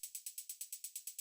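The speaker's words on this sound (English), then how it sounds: "the first set of percussion that we have are these two hi-hats" Two layered hi-hats for acid techno, one bright and one more mid-range, tick in an even rapid pattern of short crisp hits, alone and fairly quiet.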